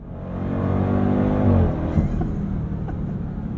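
2023 Dodge Durango SRT Hellcat V8 roaring hard off the line from a standstill, loud and rising in pitch, then cutting back as a gear change hits.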